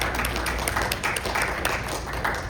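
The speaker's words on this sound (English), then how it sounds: "One more round of applause for your elected officials here." Audience applause at a property tax town hall in Osceola County, a steady dense wash of clapping that fills the whole stretch at even loudness.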